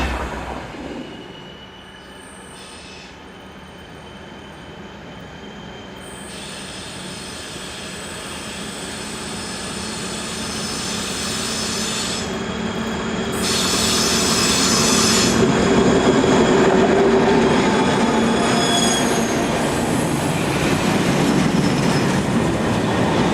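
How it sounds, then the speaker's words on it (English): Locomotive-hauled passenger train IC50 from Prague to Nuremberg passing a road crossing near Schirnding station, a steady rumbling roar of wheels on rail that slowly swells in loudness, with squealing wheels and faint rhythmic clickety-clack. "This train is IC50 from Prague to Nuremberg."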